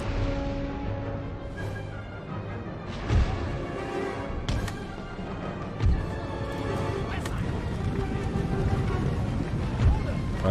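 Cavalry horses whinny and hooves clatter amid an Empire: Total War battle, with sharp thuds at intervals and a constant rumbling din, while someone talks over the action.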